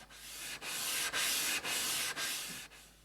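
A Lie-Nielsen No 4 plane blade is rubbed along a sharpening stone in steady longitudinal strokes, giving about six even, gritty scraping passes with brief breaks at each turn, soft and close.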